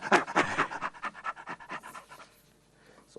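A man imitates a chimpanzee's laugh with a quick run of breathy, rhythmic panting huffs, loud at first and then trailing off into quieter gasps.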